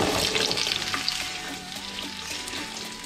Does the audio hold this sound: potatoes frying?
yes